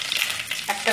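Two bay leaves sizzle in a teaspoon of hot white cooking oil over a medium flame, a steady close crackling hiss with small stirring scrapes and brief louder spits near the end.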